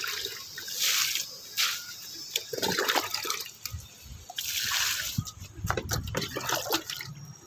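Homemade liquid fertilizer solution poured from a container onto bean plants in a garden, giving a continuous close splashing and trickling of water with uneven surges and drips.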